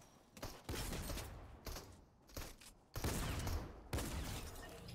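Gunfire in Fortnite sounds in dense, loud bursts of rapid shots separated by brief gaps, a close and harsh crackle with no talking over it.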